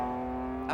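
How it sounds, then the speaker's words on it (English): A 6-cylinder BMW Group N race car accelerates through the gears on a circuit, a steady throaty engine drone with strong tonal harmonics, heard at moderate distance and briefly rising near the end. "This lovely throaty sound of the 6-cylinder BMW"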